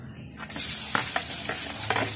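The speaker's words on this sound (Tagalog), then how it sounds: "Magigisa na po tayo mga kausyoso." Garlic sautéing in a pan for pork pochero, a loud continuous sizzle bursting in after a quiet start, with a few sharp utensil clacks against the pan through it.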